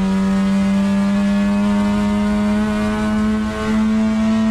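Racing car in the video game Assetto Corsa, on the San Cayetano circuit, accelerating out of a corner: a steady, loud engine drone with its pitch climbing slowly throughout, close and continuous with no voices.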